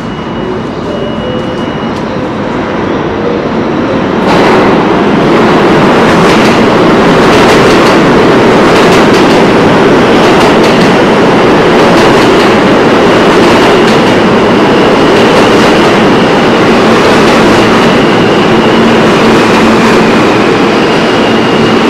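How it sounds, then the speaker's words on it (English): A New York City subway train rolls along in a loud, continuous rumble heard from aboard, with rhythmic clacking of wheels over rail joints and rising intensity after a few seconds. "Stressful yet stupendous subway."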